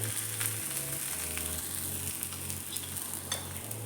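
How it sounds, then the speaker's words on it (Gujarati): A methi thepla flatbread sizzles on a hot griddle, the frying hiss steady alongside a low hum from nearby. "આપણી તવી ગરમ છે હવે આપણે એમાં થેપલું મૂકી દઈશું"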